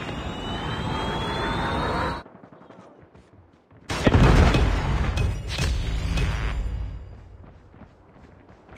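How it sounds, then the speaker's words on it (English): Call of Duty Mobile gameplay brings a whooshing aircraft-like streak followed by a short quiet gap, then a loud Predator missile impact whose rumbling blast decays over several seconds. "Friendly Predator missile inbound"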